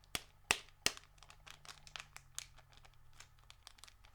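A BACCOFF sample packet is cut open along its top and back seam, making a few sharp snips and then soft, quiet crinkling of the packaging at close range. No one speaks.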